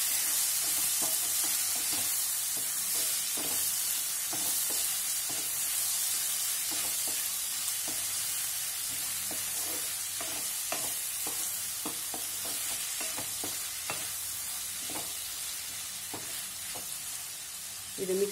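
Okra (bendi) with masala sizzles in a frying pan while a spoon stirs it, with steady frying hiss and a scatter of soft scraping clicks, close and moderately quiet, no talking.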